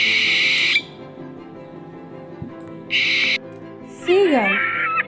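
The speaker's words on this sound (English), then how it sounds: "Owl." Owl calls play in short bursts, a sustained hooting burst at the start and another near three seconds, each followed by quiet pauses, before a spoken voice comes in near the end.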